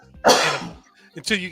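One sharp, loud sneeze burst up close, followed a moment later by a shorter breathy sound, with some vocal noise mixed in.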